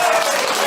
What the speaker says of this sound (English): Well, it's got a round of applause.